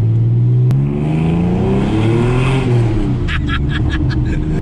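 A TVR Sagaris sports car engine revving while driving, a loud, close, deep growl rising and falling in pitch as the throttle opens, with a brief voice heard briefly near the end.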